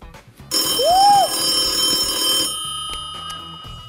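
A phone rings with an incoming call: a loud electronic ring with a rising and falling tone lasts about two seconds, then cuts off into quiet room sound.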